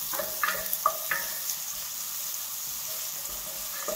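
Grated ginger and garlic sizzle in hot oil with a steady, soft crackling hiss, a few faint clinks and stirring sounds on top, with no talking.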